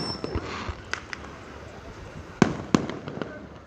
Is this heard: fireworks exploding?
yes